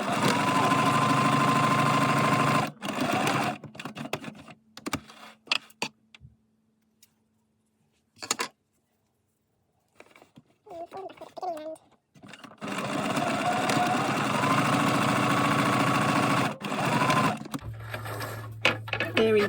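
Close, rapid mechanical whir of a sewing machine stitching fabric for a drawstring rucksack, running in long bursts with a quiet pause in the middle as it goes backward and forward; someone talks over parts of it.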